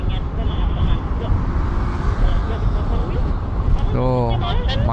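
Jammed road traffic in Bandung, Indonesia, as a steady, close wash of engine rumble and road noise, with a brief horn-like tone near the end.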